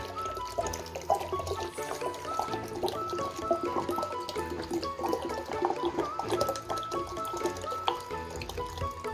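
Water being poured into a container, about one liter, while mixing a homemade organic plant pesticide: a continuous splashing, gurgling pour with bubbly trickles, steady and close.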